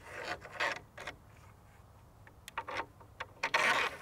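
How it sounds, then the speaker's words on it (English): A ball-end Allen wrench twisted to tighten a Saris MTR bike rack, producing short intermittent metallic clicks and scraping rubs in quick irregular bursts, close up and fairly quiet. "It's nice that they have a little ball on the end of the Allen wrench, so you can just twist it like this."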